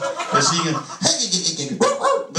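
A man imitates a dog barking at a comedy show, loud, close, rough yelps and barks in three bursts, with a voice mimicking the animal.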